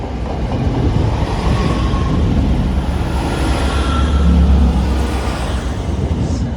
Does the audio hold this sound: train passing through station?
yes